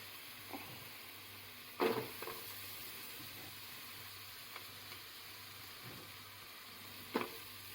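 Onions sizzle in a big soup pan on medium heat, a steady low frying hiss with a few louder clatters and stirring knocks around it.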